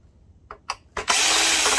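A power screwdriver whirs steadily while backing screws out of a Sony VPL-HW45ES SXRD video projector, following a few short clicks and taps. The motor runs loud and close, alone.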